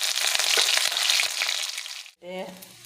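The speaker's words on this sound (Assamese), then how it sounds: "এইখিনি তেলতে পিঁয়াজ দি দিছোঁ।" Onions frying in hot oil in a pan, a loud close hissing sizzle with a few sharp crackles, cut short by a brief silence before a voice starts speaking.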